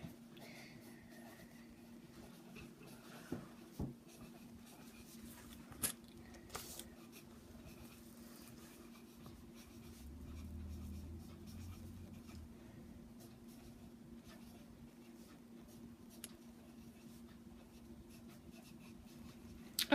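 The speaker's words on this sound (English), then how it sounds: "Can you write those down?" A pencil writing numbers on paper, faint scratchy strokes coming in short irregular bursts against a quiet room with a low steady hum, no one speaking.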